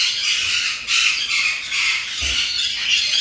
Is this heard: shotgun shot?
no